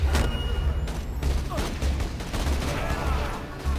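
Dense, continuous gunfire from Borderlands 2 gameplay, with rapid bursts and booms layered over a constant low rumble, loud and busy throughout.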